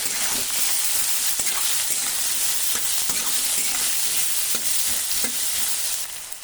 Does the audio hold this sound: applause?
no